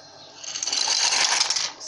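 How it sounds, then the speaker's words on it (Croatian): Dry pasta is poured into a pot of salted, boiling water, giving a short, dense rattling rush that rises, holds for about a second and then trails off. "testeninu sipamo"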